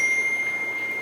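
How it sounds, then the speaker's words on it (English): A phone rings with a single bright, steady electronic tone held for about a second, fairly loud over faint room noise. "Sorry about my phone."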